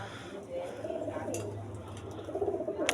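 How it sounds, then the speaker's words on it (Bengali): Pet pigeons in a Bangladeshi home loft cooing softly, low throaty calls rising and falling close by over a faint background hiss, with a few light rustles. "সব কবুতরগুলো কি সুন্দর,"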